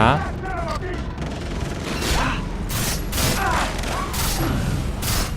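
Rapid gunfire and sharp impact bursts ring out in a Far Cry 3 firefight, broadband shots repeating unevenly over steady game noise and mechanical clatter, with a voice talking over the action.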